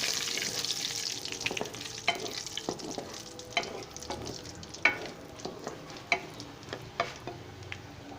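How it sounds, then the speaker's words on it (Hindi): Whole dried red chillies, ten of them, frying in a cumin tadka, giving a steady close sizzle with repeated crackles and stirring scrapes throughout, no talking. "अभी मैं साबित लाल गोल मिर्च जो मैंने 10 अदद ली है उसको मैं इसमें"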